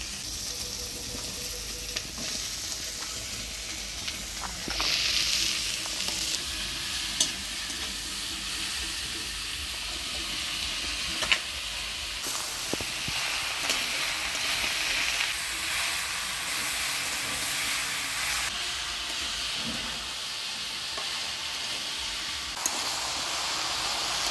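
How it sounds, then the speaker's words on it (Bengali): Chopped bottle gourd is stirred in a pan with ground coriander, cumin, ginger and chili paste, turmeric and salt, giving a steady close sizzle with soft scraping and stirring noises throughout, and no talking. "লাউ দিয়ে মশলার সাথে ভালো করে নাড়াচাড়া করে নিলাম"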